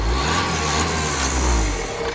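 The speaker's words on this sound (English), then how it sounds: "Give that a bit more of a rev up again." The engine of a 2014 Vauxhall Vivaro 1.6 CDTI van, bought as spares or repair, is revved up and held, producing a loud, steady mechanical drone close by with no voices.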